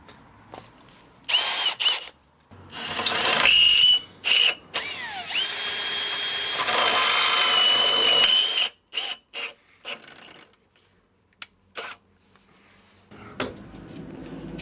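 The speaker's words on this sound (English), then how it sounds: "drill a pilot hole and slowly work my way up to quite a decent beefy hole" A power drill whirs in several bursts, drilling a pilot hole and working up to a larger hole for a car's chassis-mounted splitter: one long sustained run with grinding pitch shifts, then short stop-start spurts and quiet gaps.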